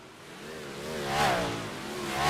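Racing car engine in a video game, a close, steady, moderately loud drone whose pitch swells and dips as the revs rise and fall twice.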